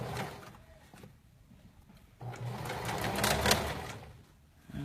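A home sewing machine bastes a flutter sleeve onto a garment, running in two short bursts of quiet motor whir and needle chatter separated by a pause, close and soft.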